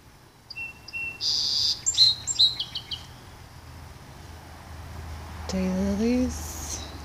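Several birds chirp and tweet in short bright bursts at a garden bird-feeding spot on a foggy morning, clustered near the start and again near the end, over a quiet outdoor background.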